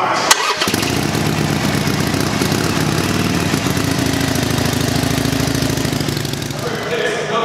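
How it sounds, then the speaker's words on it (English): A 2019 Harley-Davidson Iron 883 motorcycle fires up with a sharp crank and catch, then settles into a loud, close, lumpy idle that throbs steadily for several seconds. "We'll go on and start her up real quick."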